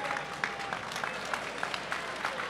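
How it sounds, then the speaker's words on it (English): A boxing crowd applauds during a fight, a steady wash of clapping with scattered sharper claps rising above it for a few seconds. "but now they're applauding"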